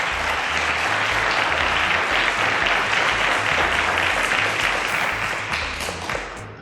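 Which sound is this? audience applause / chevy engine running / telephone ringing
audience applause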